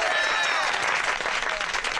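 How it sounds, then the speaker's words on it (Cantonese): Neighbourhood crowd bursts into dense, sustained applause welcoming Judge Bao, with scattered voices mixed into the steady clapping throughout. "大家俾啲掌聲！"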